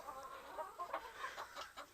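Backyard coop chickens cluck in a soft, steady flurry of short calls from several hens, fairly close and quiet, with no talking.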